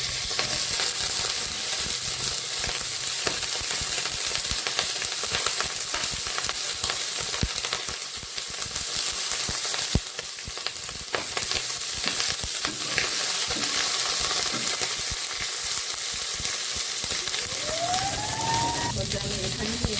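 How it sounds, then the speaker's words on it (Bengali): Potatoes and cauliflower frying in a pan, with a steady broadband sizzle and crackle plus occasional stirring scrapes, close and continuous throughout. "আলুটা এখন আমি ভেজে নেব। তাতে কপিটা দিয়ে দেব"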